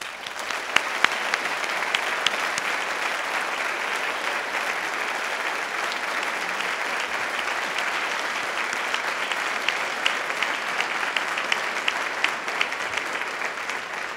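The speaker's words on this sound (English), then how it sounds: "Please join me in congratulating all of the graduates with your applause." Large convocation audience at Dalhousie University's Faculty of Medicine spring ceremony claps for the graduates, a loud, sustained wall of applause that stays even and continuous throughout.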